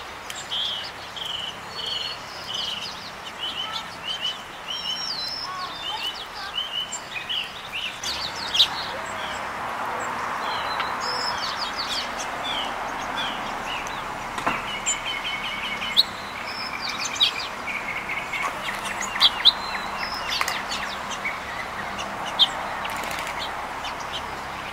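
Songbirds and California quail call on a sunny morning at Alviso Adobe Park, scattered chirps and calls over a steady outdoor hum, some near, some farther off.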